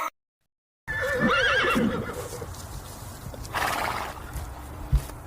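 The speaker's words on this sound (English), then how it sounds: "H for horse." A horse gives a loud, quavering whinny up close, followed by snorting and a few hoof clops.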